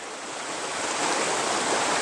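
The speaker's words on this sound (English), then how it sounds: "Filling my pan with water and throwing it up there" Water from a gold pan is splashed onto mined material at a hillside strip-mining spot outdoors, making a loud, continuous broadband rushing wash that swells slightly over two seconds, with no talking.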